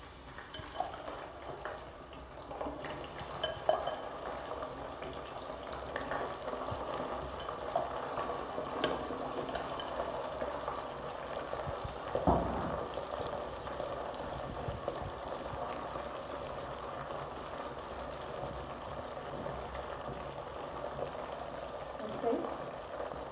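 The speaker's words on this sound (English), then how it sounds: "oil is now hot and ready. I'm going to add the okra" Okra frying in hot oil for a dried tilapia dish, giving a steady, dense crackling hiss that runs unbroken for the whole stretch, with a few louder pops along the way.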